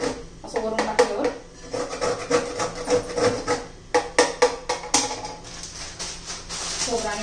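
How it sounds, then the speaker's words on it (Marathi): Dried coconut being grated by hand in a kitchen, a series of rhythmic rasping scrapes that run steadily for several seconds at moderate level. "सुकं खोबरे ते थोडंसं किसून घेऊया"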